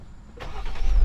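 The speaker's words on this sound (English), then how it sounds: "now it starts." A Jeep Wrangler JL cranks and its engine catches, a short starter whir rising into a steady idle rumble close by.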